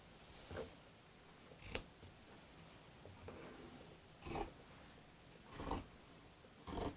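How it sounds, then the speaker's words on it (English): Fabric scissors snip through cloth while cutting out the center of fabric for a picture frame project, giving quiet intermittent crisp cuts spaced a second or so apart, faint and close with no talking. "preferably scissors that are made for cutting fabric"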